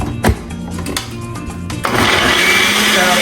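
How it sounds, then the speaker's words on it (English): A blender running with salsa, salt and garlic, preceded by a few knocks and handling sounds, then the motor roars up loud and steady, close by. "That's all blended up, but we're not done yet."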